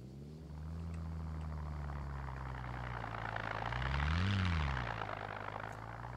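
An aircraft engine in the game SCUM hums steadily, swells nearer with a rising then falling pitch around the middle, and eases off again as the throttle is pulled back, with no talking.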